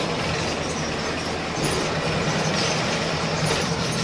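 A train rolls past on a railway line near Jhansi, a loud, steady rumbling roar of wheels on track close by, continuous throughout without any talk.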